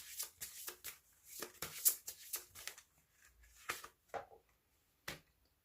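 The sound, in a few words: shuffling and drawing advice cards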